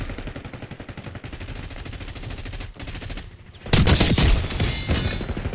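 Battle rifle fire in the video game Call of Duty Black Ops 6, a dense run of rapid shots that builds into a louder, booming burst near the end, with no voices over it.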